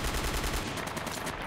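Rapid bursts of heavy .50 caliber gunfire in Project Reality 2 thump in a quick, steady rhythm at close range, then trail off into a rumbling echo.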